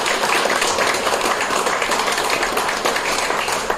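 A round of applause fills a business breakfast meeting with a minister present, dense and loud continuous clapping from a sizeable crowd without letup.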